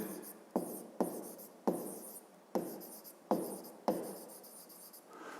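Pen writing on paper during a 5th-grade maths exercise: six or seven short scratchy strokes in a steady rhythm, close and fairly quiet, with no talk.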